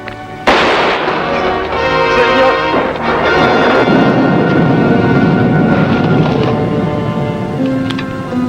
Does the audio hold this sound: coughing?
no